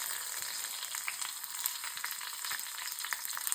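Shallots sizzle and crackle steadily in hot oil in a pan, a dense continuous frying hiss with scattered pops, loud and close, with no voices.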